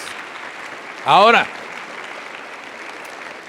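A church congregation claps in a steady, sustained wash of applause while a voice briefly speaks over it.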